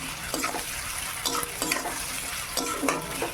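Onions sizzle in a hot pan with whole spices and salt in a village kitchen, a continuous crackling fry punctuated by a few quick scraping stirs close by.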